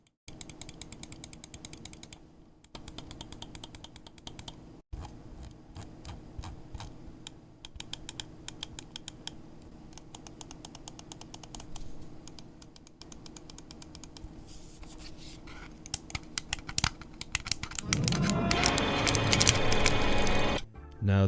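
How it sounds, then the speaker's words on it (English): Rapid clicking of the buttons on a Ninjutso Sora V2 gaming mouse, crisp close taps in quick repeated bursts with brief pauses, followed by some rustling handling noise at the end. "here's the obligatory mouse clicking ASMR"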